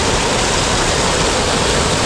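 Water rushes steadily down the cascades of Nishat Bagh Mughal garden in Srinagar, Kashmir, a loud, unbroken close-up roar with no voices over it.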